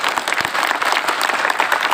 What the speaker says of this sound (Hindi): इनका आप लोग तालियों से गड़गड़ाहट से स्वागत करिए